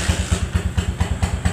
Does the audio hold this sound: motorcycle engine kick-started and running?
yes